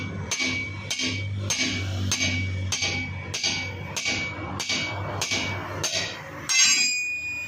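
Hammer blows on a rear suspension part of a Peugeot Pars raised on a jack, about nine sharp metallic strikes in a steady rhythm, loud and close with ringing after each hit and no talk.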